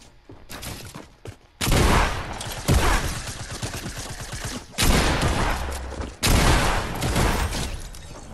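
Gunfire in a Fortnite trios match: loud, dense bursts of rapid shots in several volleys, some near and sharp, separated by brief quieter gaps.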